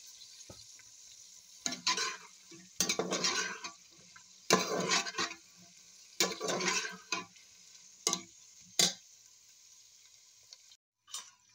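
Carrots are stir-fried in a pan for Filipino pansit, with sizzling that swells in repeated bursts as they are tossed and stirred, over a steady background hiss.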